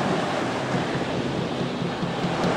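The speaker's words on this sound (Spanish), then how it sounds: "Creo que ahorita solamente escucharían el sonido de las olas" Ocean waves wash and roar continuously nearby on a beach, a broad steady surf with some wind buffeting.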